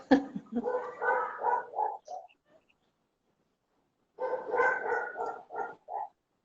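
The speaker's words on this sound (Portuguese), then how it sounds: "Cachorrada tá animada hoje." Several dogs bark in two lively bursts of quick, overlapping barks separated by a few seconds of silence, heard at a moderate distance.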